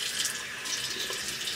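A tap runs steadily as curly hair is re-wet at the roots, a close, even hiss of flowing water with no speech over it.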